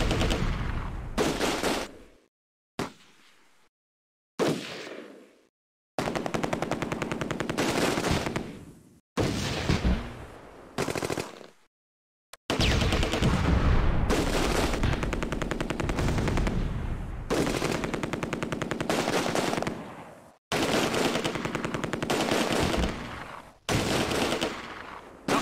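Sustained machine-gun and rifle fire in the WWII strategy game Close Combat: A Bridge Too Far, loud bursts and volleys chopped by short silent gaps, with one long continuous stretch of shooting in the middle.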